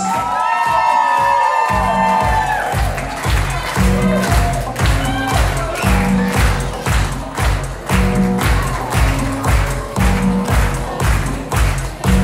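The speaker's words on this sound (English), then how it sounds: "How about a round of applause for McKaylee Santos and Stephanie Drakes?" Guests at a wedding reception applaud and cheer for the bridal party, with clapping and shouts over a steady thumping dance beat with musical tones, loud and close.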